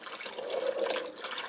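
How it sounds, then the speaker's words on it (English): Chicken broth being poured into a soup pot for chicken noodle soup, a short, fairly quiet splashing stream of liquid with no talking. "I'm going to start adding my chicken broth"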